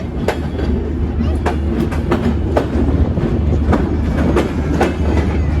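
The Kapotaksha intercity express train departing Jessore Railway Junction rumbles steadily along the tracks, wheels clacking in a repeated rhythm over a constant low roar, close and loud.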